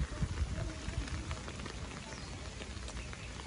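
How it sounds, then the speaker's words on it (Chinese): Rain at a campsite pitch near a fishing harbour, with a steady patter of drops on surfaces close by, continuous and moderately loud with no talk. "只是说今天刚好是下雨天"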